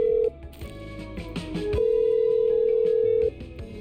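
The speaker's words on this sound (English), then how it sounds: "Okay, I'm dialing." Telephone dialed in the video game Killer Frequency: a short tone, a quick run of dialing beeps, then a long steady tone held for over a second before cutting off.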